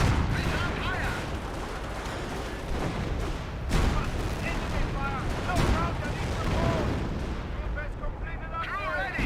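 A Humo artillery barrage lands in the World War II strategy game Company of Heroes, a continuous rumble of distant explosions and gunfire with heavier booms mixed in, while a commentator talks over it.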